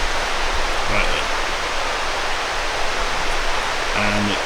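A creek rushes beside a campsite on the road to Cooper Landing in Alaska, a steady broad hiss of flowing water filling the whole stretch, with faint low murmurs of talk now and then.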